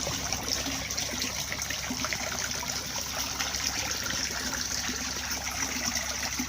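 Water trickles steadily as a garden koi pond is refilled after a repair, a constant soft splashing flow with no voices.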